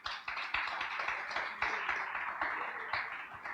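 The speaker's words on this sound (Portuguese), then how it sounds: "você pode dar uma salva de palmas para Jesus?" Church congregation clapping for Jesus in a dense, sustained round of applause with rhythmic accents, loud and continuous with no talking.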